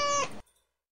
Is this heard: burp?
no